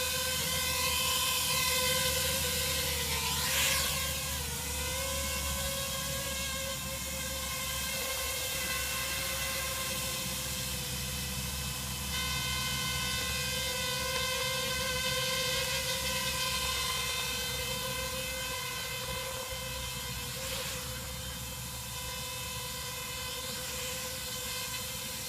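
A DJI drone hovers nearby with a steady high rotor whine that wavers slightly in pitch as it is held in place, continuous and unbroken throughout.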